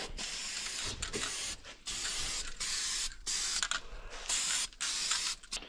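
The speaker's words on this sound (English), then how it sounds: "now I can give it a little zinc coating-ing" Zinc coating hissing from an aerosol can in short bursts, five or six separate sprays with brief pauses between, close by and fairly quiet.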